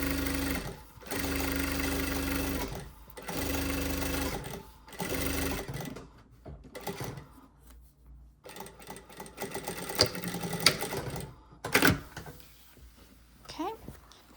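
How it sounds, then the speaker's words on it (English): A sewing machine runs close and steady for about six seconds, stitching a seam on a small shopping bag with a half-inch seam allowance. It stops briefly and restarts, then gives way to handling noises and faint talk. "I'm going to sew that down using my 1/2 inch seam allowance"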